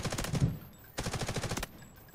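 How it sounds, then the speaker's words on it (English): Close automatic rifle fire in Delta Force Hawk Ops, two loud rapid bursts of shots with a short pause between them, heard alone. "Shots are close."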